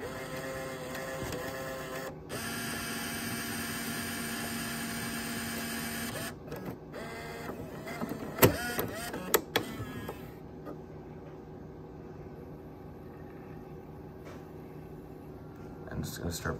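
A Bose Acoustic Wave II CD changer whirs and clicks steadily as its motor mechanism ejects and loads a disc, with a few sharp clunks midway, close by and under a faint voice.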